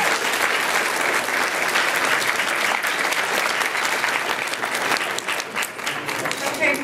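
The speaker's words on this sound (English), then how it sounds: "pause your clapping" Wedding guests applaud loudly and continuously, a dense close roar of clapping that thins slightly toward the end, with faint voices mixed into the crowd.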